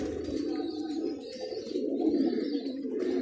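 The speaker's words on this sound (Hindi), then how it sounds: "ये देखिए कबूतर" Pigeons cooing in low, throaty murmurs, several birds overlapping continuously, close by with faint chirps above.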